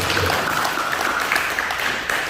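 Dense, steady applause from a church congregation, continuous clapping filling the whole stretch with no pauses.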